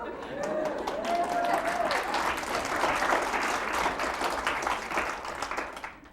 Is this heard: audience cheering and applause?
yes